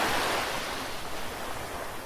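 Ocean waves wash steadily onshore in a continuous broadband surf roar, soft and even, with no voices, setting a calm seaside backdrop for a nap.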